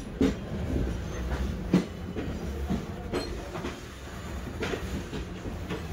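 Interior of an empty sleeper coach on a running passenger train in the Konkan region: a steady low rumble with rhythmic wheel clacks and thumps recurring every second or so, with no voices.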